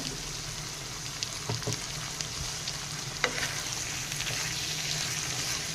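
Potato slices coated in spice masala sizzle steadily in a pan while a spatula stirs and scrapes through them, with a few sharp clicks of the utensil against the metal over the constant close frying hiss.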